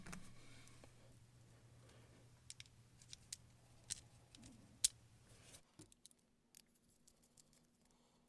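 Small metallic clicks and taps of screws being reinstalled and snugged into the motor of a Lionel 1656 steam locomotive, faint and irregular, over a low steady hum that stops partway through.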